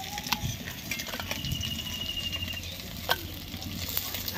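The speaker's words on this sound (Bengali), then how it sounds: "সুন্দর করে মাছগুলো ভাজা ভেজে নিয়েছে বা তুলে নেব মাছগুলো" Small fish frying in hot oil in a kitchen pan, a steady crackling sizzle with a few sharp utensil clicks and scrapes as the pieces are turned, no voices.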